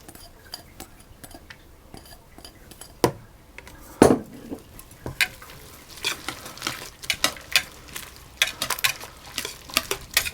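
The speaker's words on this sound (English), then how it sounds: "And then I'm going to add the courgette or zucchini in as well." Courgette being stirred into a chocolate loaf cake batter in a mixing bowl, soft wet scraping and stirring with scattered clicks of spoon against bowl, one sharper knock midway, busier stirring toward the end.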